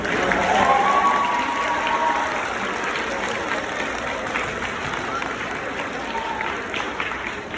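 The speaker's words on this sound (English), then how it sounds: "Let's all give Charlotte a big round of applause for putting this together" A school audience at a Red Ribbon Week event gives a round of applause, a dense wash of clapping and crowd noise that starts loud and gradually eases, with a voice briefly audible over it.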